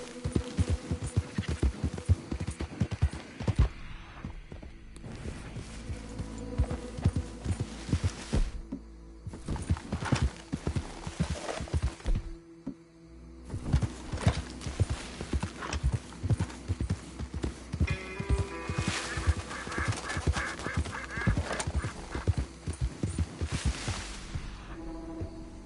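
Horse hooves clip-clopping at a steady gallop in the video game Red Dead Redemption 2, a loud continuous rhythmic pounding with brief pauses and a faint musical score underneath.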